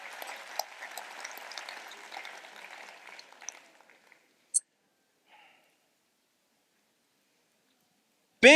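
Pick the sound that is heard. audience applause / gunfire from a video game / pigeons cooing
audience applause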